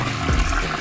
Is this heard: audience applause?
no